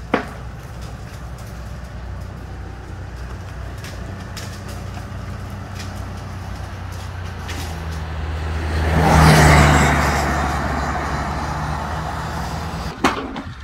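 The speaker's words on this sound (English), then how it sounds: "We got cleanup crews coming along the edges of the road, trying to clear all the junk out" Road clearing crew vehicles working along Stringfellow Road, with a steady engine rumble and a louder vehicle swelling past at mid-distance before fading, plus a couple of sharp knocks.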